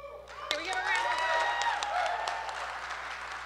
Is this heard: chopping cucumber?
no